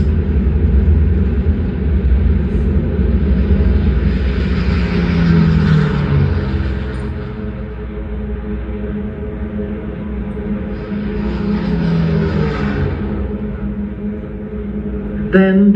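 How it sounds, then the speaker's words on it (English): WWII Japanese fighter planes launching from aircraft carriers, their engines a loud, continuous rumbling drone that swells and recedes twice as aircraft pass, with no voices. "Still undetected, Nagumo turned his carriers into the wind and launched his planes"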